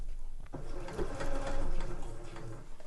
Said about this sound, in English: I'm going to do a few back stitches.